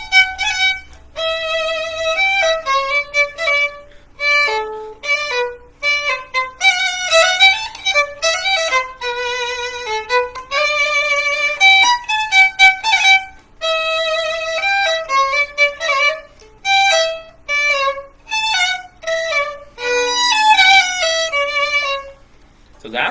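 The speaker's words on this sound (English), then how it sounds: "So with Mozart's third movement of the concerto, it sounds like this." Solo violin playing the rondo theme from the third movement of a Mozart violin concerto: a lively, continuous run of bowed notes with quick phrases and brief pauses, close and clear, with no talking.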